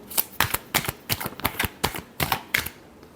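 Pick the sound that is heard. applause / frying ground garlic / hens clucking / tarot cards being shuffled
tarot cards being shuffled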